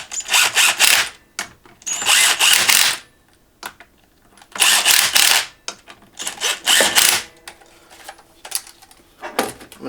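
Power tool zipping hub bolts into a 5-lug hub on an S13, heard as several loud, close bursts of whirring with short pauses between them, no talking.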